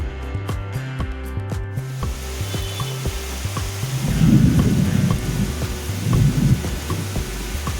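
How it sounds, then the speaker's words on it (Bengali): A heavy thunderstorm rolls through, with deep repeated thunder rumbling under a constant wash of loud rain that swells into a heavier downpour partway through. "কি প্রচণ্ড ঝড় বৃষ্টি হচ্ছিল মানে এত জোরে জোরে বাজ পড়ছিল"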